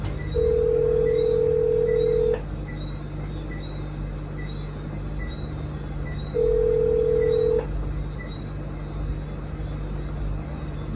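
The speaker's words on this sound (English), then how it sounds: "We take so long and I hear phone ring." A phone ringback tone sounds over a line in two long, steady electronic bursts separated by a pause, loud and close against a constant low hum.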